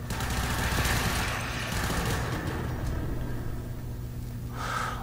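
Soma Prime rifle in the video game Warframe fires long, rapid automatic bursts, loud and dense at first and then continuing in a steady rattle, with no speech.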